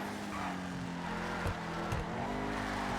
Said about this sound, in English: The engine sound is very good.